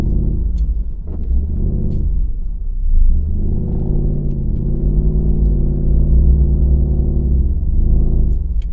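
A Chevy truck with a solid axle swap runs on snow tracks through deep snow, its engine a steady loud low rumble that rises and falls as it pushes through a corner, heard alone without talk.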